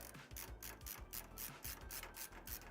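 Bolts are backed out of a PC case with a ratcheting tool, a quick run of close, quiet mechanical clicks in a steady rhythm.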